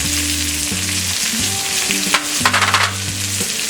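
Chopped onion, curry leaves and green chili fry in a pan of oil over a medium flame for broken wheat upma, a steady close sizzle with brief stirring bursts beneath a sustained low tonal hum.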